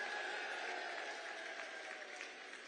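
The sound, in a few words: crowd applauding at a political rally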